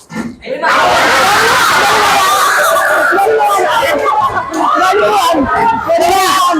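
A group of people shout together in a classroom-style shouting contest, a loud sustained burst of mixed voices and screams after a brief quiet start, filling the whole clip.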